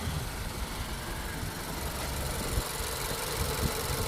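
A Ford Focus with a replacement used engine idles steadily with a low, constant rumble and faint rattling vibration, running alone without any voices.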